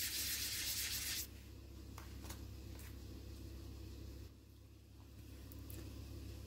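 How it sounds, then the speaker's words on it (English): Polymer clay pendants are sanded by hand with fine-grit paper, a soft continuous rubbing scrape, fairly faint and close, with a low steady background rumble and a brief pause midway. "I'm going to sand all three of these pieces, fronts and backs, all the way up to 2500"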